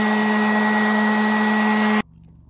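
A power saw blade cuts through old barn wood with a loud, steady whine for about two seconds, then stops abruptly and leaves near silence.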